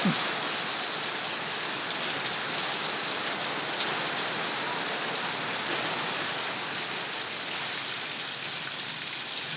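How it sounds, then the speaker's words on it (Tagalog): Heavy rain pouring down near a parish church, a dense, steady hiss of drops on surfaces that stays even and unbroken throughout. "Ang lakas ng ulan."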